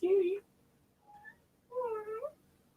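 A cat meows close by, once short and then again in a longer, wavering cry after a brief pause, with a faint chirp between the two.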